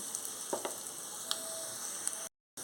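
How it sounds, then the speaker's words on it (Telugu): Steady crackling sizzle of spice tempering frying in hot oil as asafoetida is added, with a few sharper pops, then a brief drop to silence before the sizzle resumes. "పోపు ఏగిపోయింది కొంచెం ఇంగు వేసుకుంటున్నాను"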